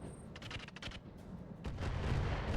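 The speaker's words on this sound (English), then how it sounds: "That was that sniper turret." Sniper turret fire in the RogueTech mech game: a rapid burst of sharp gunfire cracks at the start, followed by a heavier rumbling blast and sustained booming noise, moderately loud with no talking.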